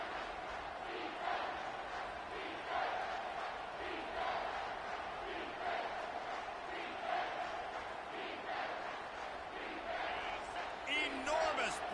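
A football stadium crowd in a video game roars in a broad sustained swell during a late-game third down, fairly faint and steady, with a commentator talking over it.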